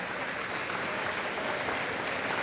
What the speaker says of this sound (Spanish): Aplauso para el grupo de Emaús